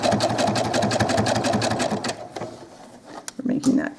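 A sewing machine running an anchor stitch on a doll clothes seam, a rapid close mechanical chatter for about two seconds before it stops and a voice talks.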